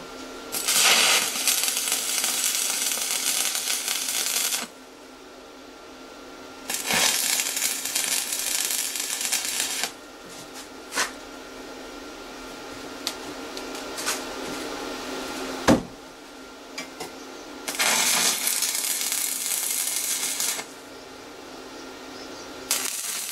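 Tack welds joining a 100 mm steel flat bar at each corner, part of a base for a huge parasol: three separate bursts of steady crackling arc hiss lasting a few seconds each, with quiet gaps and scattered clicks between them.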